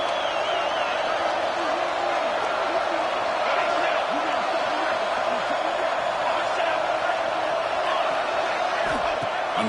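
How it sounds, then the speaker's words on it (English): Dense roar of a stadium crowd in an NCAA football video game, building noise during a red-zone defensive stand, a constant loud wash of cheering from start to finish. "And here comes the noise. This crowd is trying to inspire this defense to make a big red zone stop."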